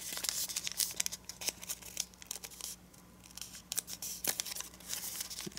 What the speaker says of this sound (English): So fold this edge to here.